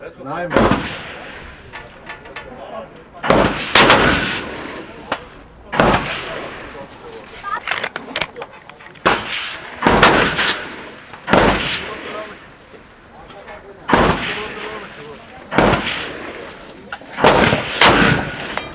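Merkel rifle in .270 Win Mag fired at a 300-metre target: seven loud, sharp gunshots spaced a couple of seconds apart, each with a booming tail, alone without talk.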